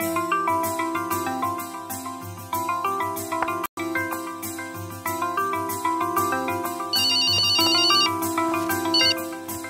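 Phone ringtone from an incoming call, a loud melodic electronic tune repeating in steady phrases for nearly ten seconds with one brief cutout, no talk over it.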